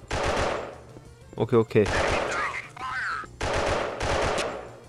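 Gunfire in the mobile shooter game Special Soldier: repeated bursts of automatic rifle shots, loud and close, with brief gaps and someone speaking briefly in between.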